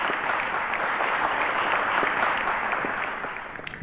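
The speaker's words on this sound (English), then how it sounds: "A round of applause." Steady, dense applause from a studio audience at a televised quiz show, holding at full strength throughout and only starting to thin out in the last moment.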